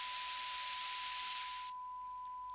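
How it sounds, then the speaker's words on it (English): Broadband white noise hisses loudly over a steady sine tone, then drops sharply to a much lower level when sidechain compression partially ducks it, leaving the tone dominant. "We are still hearing some white noise when track A is making sound."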